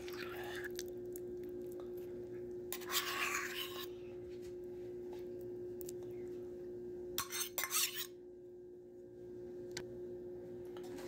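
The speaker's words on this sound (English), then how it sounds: "This is where we will mix them all together" Cutlery stirs a thick apricot preserves sauce in two short bursts of scraping and clinking, close up, separated by quiet stretches of low background hum.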